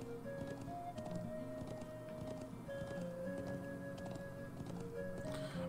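Horse hooves clip-clop steadily while riding in Trails of Cold Steel, soft rhythmic footfalls under a continuous background music bed.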